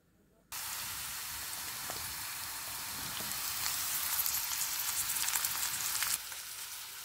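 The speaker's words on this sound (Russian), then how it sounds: "И все это на сковородку и Да. обжариваем" Vegetables sizzle steadily in a hot pan, a dense crackling hiss that starts abruptly and grows slightly louder before cutting off near the end.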